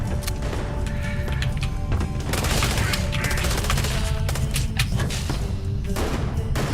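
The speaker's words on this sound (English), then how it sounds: "Sniper rifles are so much fun." Sniper rifle fire in the space game Starfield comes as rapid, dense bursts of loud shots and impacts, repeated crackles and thuds running continuously over a busy combat backdrop.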